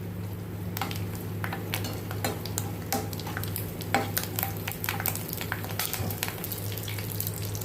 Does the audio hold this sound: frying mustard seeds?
yes